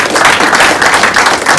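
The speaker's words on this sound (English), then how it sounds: "We'll give another round of applause." An audience claps after a talk at an AI blockchain event, a short, dense burst of close, loud applause from a small room.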